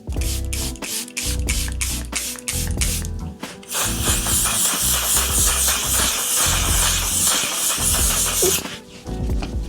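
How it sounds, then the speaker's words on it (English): A steady, close hiss of makeup setting spray lasting several seconds, laid over rhythmic background music. "it is now setting spray time"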